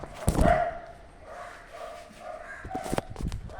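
A dog barks a few times at a distance, sharp yelps standing out early and again near the end over a quiet outdoor background.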